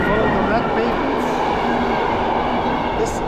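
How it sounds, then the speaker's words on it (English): A loud 40-year-old train rumbles and clatters past close by, a continuous heavy roar with metallic wheel noise and no pauses. "This is a train of 40 years old."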